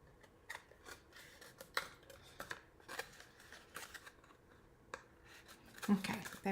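A paper cutter trims a sheet of paper for an Easter treat box craft, giving soft, scattered slicing and rustling sounds, with someone talking over the work at close range.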